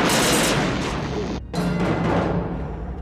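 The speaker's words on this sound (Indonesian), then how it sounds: "perasaan itu lenyap ketika sebuah tembakan hampir mengenainya" A gunshot rings out in a film set on a moon of Jupiter, a loud crack and boom within a dense, rumbling action soundtrack, the blast cutting sharply then swelling back into continuous noise.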